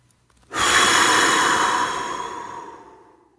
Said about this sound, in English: Going to take a deep breath in through your nose, going to exhale through your mouth